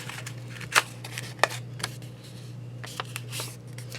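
Paper for an envelope junk journal page is folded by hand: soft crinkles and several sharp creasing snaps, close and quiet, with no talking.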